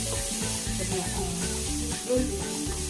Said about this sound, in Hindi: प्याज, टमाटर, सरसों और जीरा मिर्च का तड़का देती हूँ